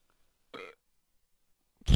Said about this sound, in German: Hast du so laut gerülpst, dass ich mich selber nicht hören konnte und dich nicht.